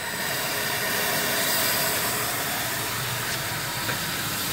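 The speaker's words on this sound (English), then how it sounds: "This is the blower valve." A steam engine boiler's blower valve hisses in a loud, continuous, even rush of steam that holds steady throughout with no voices.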